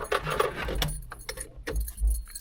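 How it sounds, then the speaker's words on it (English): Keys jangle and clink as they are grabbed out of a 1991 Toyota Camry, a few close metallic rattles over low background rumble, with no talking. "Let me grab these keys out of here"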